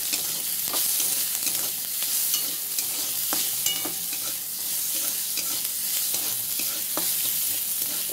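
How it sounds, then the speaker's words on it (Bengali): Onions fry in a pan, browning for a simple vegetable curry, a dense continuous hiss of sizzling oil with scattered crackles and stirring scrapes, close and steady, without speech. "আর এই দেখো পেঁয়াজ দিলাম, পেঁয়াজটাকে লাল লাল করে ভালো করে ভেজে নেব।"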